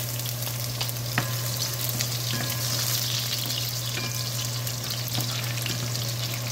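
Chopped garlic fries in a hot pan for pancit palabok, a steady, close sizzle and crackle with occasional stirring scrapes throughout.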